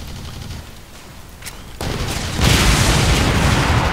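A rocket explosion in the shooter game Blacklight Retribution, a loud rumbling boom that rises and swells into a sustained roar of blast and gunfire noise, with no talking.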